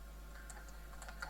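Quick, light keystrokes on a computer keyboard, a short burst of soft irregular clicks, faint and close, over a low steady hum.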